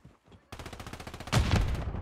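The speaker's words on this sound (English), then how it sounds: "These guys, I hear gunshots." Rapid automatic gunfire in the Call of Duty video game rattles in quick bursts. It is faint at first, then louder and heavier in the last moments.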